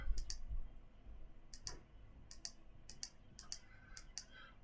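Sharp, crisp clicks from keys pressed on an HP Prime calculator, close and quiet, coming singly and in quick pairs with short pauses between them.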